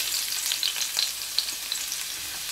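Ginger frying in a pan for a mackerel dish, a steady bright sizzle with small crackles and pops throughout, close and fairly quiet, with no talking.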